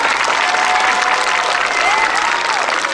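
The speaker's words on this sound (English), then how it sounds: "Can we give them all a big round of applause?" Loud, dense audience applause at a school event, continuous clapping from a sizeable crowd with faint voices under it, sustained without a break.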